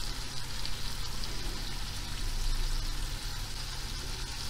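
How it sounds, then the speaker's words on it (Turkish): Ground meat sizzling steadily in a hot pan, a dense, continuous crackle and hiss close up, with no talk over it. "Kıymamızı da çok güzel kavuruyoruz."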